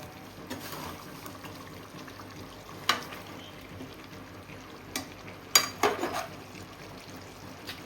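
Spices being stirred into rice and chicken in a pot for bagara rice and chicken curry, soft continuous sizzling with scattered scraping and clinking spoon strokes, quiet and close.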